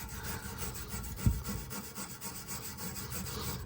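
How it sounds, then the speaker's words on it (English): Steady abrasive rubbing over the bare metal frame of a cheap mini bike with flaking paint, a continuous rasping scrub with one brief thump partway through, close and fairly loud with no talking. "grab this and just rub everywhere really fast"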